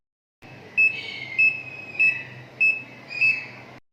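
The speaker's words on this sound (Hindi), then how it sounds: "जब ज़ीरो हो जाए तो बीप की आवाज़ आती है, जिससे ये आपको बताता है कि स्पिन का अमल भी मुकम्मल हो गया।" A Dawlance fully automatic washing machine beeps five times at the end of its spin cycle, evenly spaced bright electronic tones about half a second apart over a faint steady hum, with no talking.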